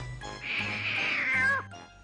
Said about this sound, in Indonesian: Suara kucing kan?